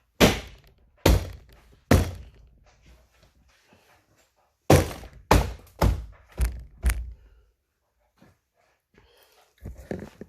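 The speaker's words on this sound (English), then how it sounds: "Hold your door and give it a thump." Repeated dull thumps, close and loud, come in a few quick bursts as a 2015 Volkswagen Passat door panel is knocked firmly into place, with quiet gaps between.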